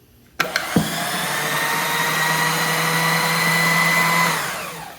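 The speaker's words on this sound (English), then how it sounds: "what about something like this little mini lathe with the AC/DC series motor? Would it work on 110 volts DC?" A small mini lathe with an AC/DC series universal motor, powered from 110-volt DC EGO battery packs, clicks on and spins up into a steady, loud high-pitched motor whine that holds evenly for several seconds before winding down.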